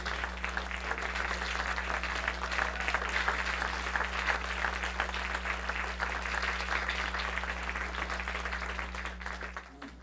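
At a watershed association's annual meeting, the audience applauds the staff, a dense, steady round of many hands clapping for about ten seconds over a low electrical hum, fading slightly at the end.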